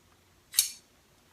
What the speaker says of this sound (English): Take your scissors.